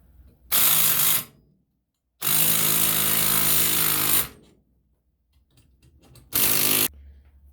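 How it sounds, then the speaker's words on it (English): Pneumatic impact gun hammering on a Yamaha YZ490 rear shock to compress the spring, three loud close rattling bursts of about half a second, two seconds and half a second, with quiet gaps between them. "gone to my pneumatic impact gun to try and pull this spring together"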